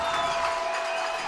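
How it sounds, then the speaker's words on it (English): A fired-up high school football stadium crowd roaring and applauding for the Mount Vernon Yellow Jackets before a fourth-down-and-goal play, a steady dense wash of noise throughout. "Oh, this crowd is fired up."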